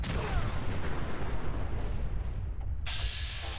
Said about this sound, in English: might be a good time for a nuke grenade